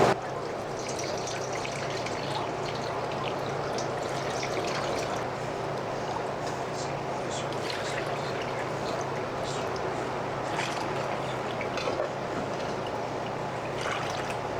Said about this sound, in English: I'll just take a drinking cup and just pour it through